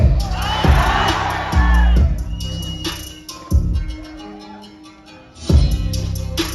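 A university event crowd cheers and shouts in bursts over loud, thumping music, the noisy audience swelling in waves at intervals, with a voice coming through amid the din.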